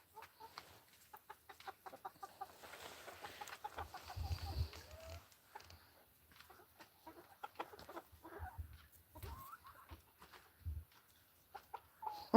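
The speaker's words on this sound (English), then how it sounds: "This is the rooster." Farm chickens cluck and a rooster calls in short, scattered bursts, fairly faint and close, with occasional bumps and light handling noise around them.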